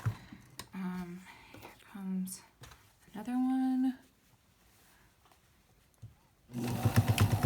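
A domestic sewing machine stitches a fabric face mask in several short bursts of buzzing whir separated by pauses, with quiet handling noise between runs and a louder rattling burst at the end.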